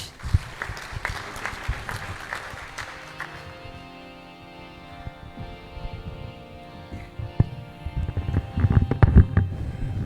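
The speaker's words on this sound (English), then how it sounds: "Another huge round of applause for Maharaj." An audience at a Hare Krishna Sunday love feast claps in scattered, uneven bursts that thin out, then swell again louder toward the end.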